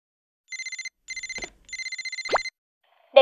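A cartoon telephone rings in three bursts of rapid trilling bells, loud and close, with brief tones interrupting, as a hospital calls in an animated film.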